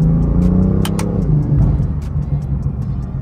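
A BMW M-series engine revs up sharply a couple of times, then settles into a deep, throaty idle rumble nearby.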